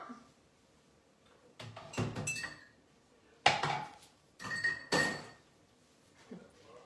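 Kitchen utensils and dishes being cleared away after cooking, with several bursts of clattering plates, pans and cutlery separated by brief quiet gaps, close by and fairly soft.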